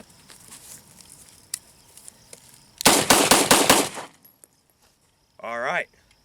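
A 1911 and a Beretta 92A1 pistol fire a quick string of close, sharp shots, several hard cracks in rapid succession after some quieter handling noises, followed by a brief voice afterward.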